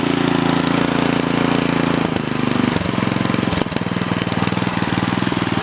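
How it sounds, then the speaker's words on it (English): A Sears Craftsman snowblower runs with its augers spinning, a loud, close, steady engine chug with a rapid pulsing rhythm and a slight shift partway through, no voices. "Augers are spinning good."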